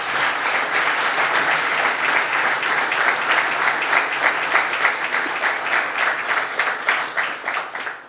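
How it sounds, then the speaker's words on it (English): Audience at Sunken Meadow State Park on Long Island applauds at a governor's announcement, a long, even stretch of dense clapping that swells slightly then fades toward the end. "Let's give them another round of applause."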